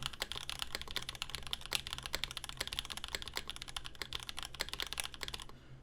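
Rapid, steady typing on a CAKE prototype mechanical keyboard fitted with Raed switches, dense overlapping key clacks running close and clear throughout with no talking.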